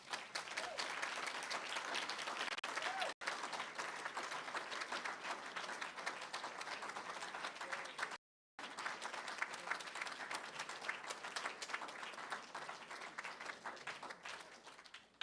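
Sustained audience applause after a poetry reading by Victoria Redel, Celeste Lecesne and Marie Howe, a dense steady clapping that runs the whole stretch with a brief break near the middle.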